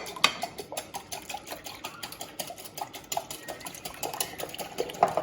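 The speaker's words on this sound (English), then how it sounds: "I'm going to beat that with a whisk" A whisk beats eggs in a bowl for a spinach, spring onion and feta quiche, producing rapid, rhythmic clinking taps against the bowl throughout, close and steady.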